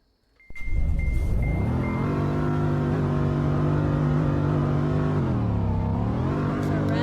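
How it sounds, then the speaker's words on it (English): An American car engine starts up, then revs under load in one long rising, steady roar that dips once near the end before climbing again, loud and close with no talk. "There's our rev."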